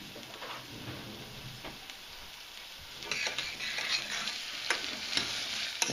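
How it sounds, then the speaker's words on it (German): Onions and pumpkin frying in a pot, steady close sizzle with scraping stir strokes from a tablespoon, growing louder and busier in the second half. "Zwiebeln fangen gerade an zu braten."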